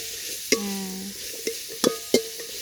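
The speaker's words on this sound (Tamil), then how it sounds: "எல்லாத்தையும் ஒன்றா கொட்டிட்டியா கொட்டிட்டேன் வதக்குறேன்" Garlic, onion and other ingredients sauté in oil in a pan over a traditional stove for tamarind curry, with a few bright metallic clinks of stirring over a low sizzle, heard close without speech.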